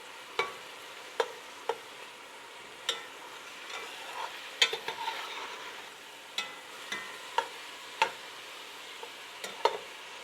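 Tomatoes for spaghetti sauce soften in a pot under a faint, steady sizzle, while a utensil taps and scrapes the pot sides at irregular intervals.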